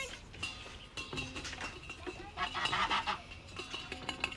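Geese on a farm honking among chickens, several calls overlapping with broadband farmyard noise, busiest in the middle, fairly close.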